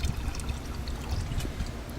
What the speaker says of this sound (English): It's a gallon watering jug, so I'm going to put 1 part acid, so it's going to be a 1 to 3 mixture